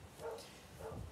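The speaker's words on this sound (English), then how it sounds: "I'm sorry about the barking, I can't do anything about it." Two quiet, muffled dog barks about half a second apart, heard from a distance.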